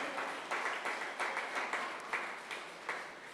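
Church congregation applauding during a Spanish-language sermon, a soft, steady patter of many hands clapping with small rhythmic surges, moderately distant and without voices over it.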